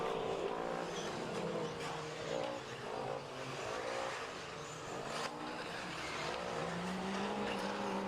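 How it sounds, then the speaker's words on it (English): Electric 1/8-scale RC buggies race around an outdoor track, a continuous high whine of motors rising and falling with tire scrubbing, steady and fairly loud throughout. "now we've got our electric 8-scale buggies out on the track"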